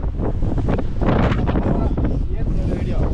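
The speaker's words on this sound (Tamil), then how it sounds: "மேலே ஏற ஏற காற்று பயங்கரமா அடிக்குது" Strong wind buffets the microphone on a mountain road climbing toward Megamalai during a motorbike trip, a loud continuous rushing roar with gusty swells throughout, no clear voices.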